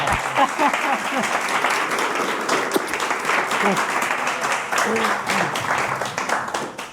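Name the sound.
applause at event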